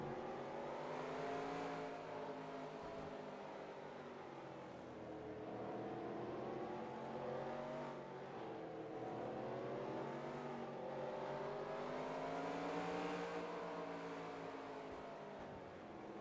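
Several race cars circle the track in a racing video game, engines droning and whining steadily as they shift pitch through the laps, a continuous mid-level roar with no talk.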